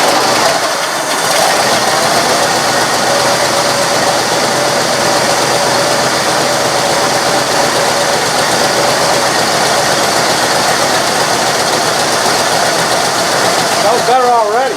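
A junkyard Cadillac engine idles steadily after its Quadrajet carburetor rebuild, loud and close with a constant mechanical clatter and drone that runs unbroken throughout.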